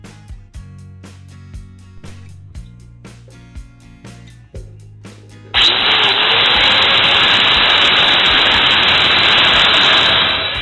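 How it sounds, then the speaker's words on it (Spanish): A Makita 9557 HP mini angle grinder that won't switch off starts up partway through and runs as a loud, steady, continuous whine and hiss to the end, after a few sharp knocks and light handling sounds. "tenemos esta mini esmeriladora Makita 9557 HP que se queda encendida y no apaga"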